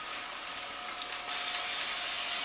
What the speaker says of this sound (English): I'm going to spray this.